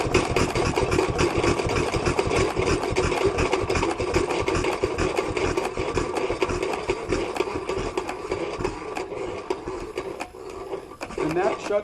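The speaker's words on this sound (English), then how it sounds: "So we're going to go ahead, we'll shut this engine down" Old water-cooled farm engine running at a school living-history demonstration, a loud steady chugging idle with rapid regular firing beats that continues close by throughout, softening slightly near the end.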